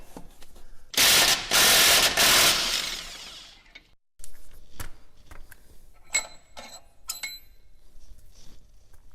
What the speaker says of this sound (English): This is where that T60 is going to get used to pull this bolt out.